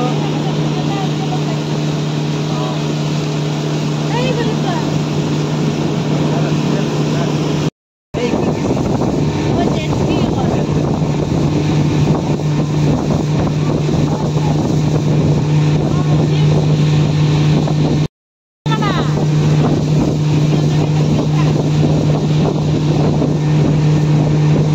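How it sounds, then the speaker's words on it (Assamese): A speedboat on Borapani (Umiam Lake) near Shillong, its engine droning loud and steady at close range under heavy wind buffeting on the microphone. "স্পিড বোট পিছফালে ইমান স্পিড চলাব পাৰি গাড়ীখন"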